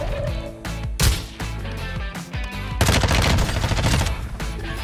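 Loud, close gunfire in the Warzone video game, with rapid automatic bursts and repeated shots, plus a heavier barrage near the end.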